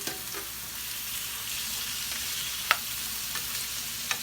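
Vegetables sauté in a teaspoon of oil in a hot pan, giving a steady, close sizzle with soft crackles and a few sharp clicks from stirring or a utensil.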